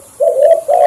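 A caged decoy dove gives two short, low, mellow coos in quick succession, close and loud, with no other sound around it.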